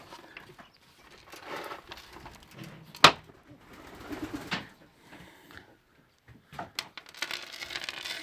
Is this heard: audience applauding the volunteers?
no